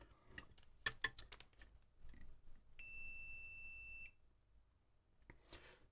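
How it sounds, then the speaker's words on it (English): Continuity tester on a multimeter beeping while a capacitor in a Xerox MemoryWriter 6040 typewriter's power supply charges up: one steady high tone lasting about a second, then stopping, amid light handling clicks. "so it beeps for a bit and then stops. That is this capacitor charging up."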